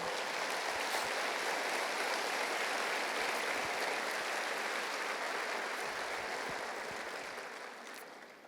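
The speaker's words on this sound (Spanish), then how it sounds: "Dale un aplauso al Señor." Congregation applauding inside a church during a sermon, a dense sustained wash of clapping that holds steady for several seconds at moderate distance, then gradually thins toward the end.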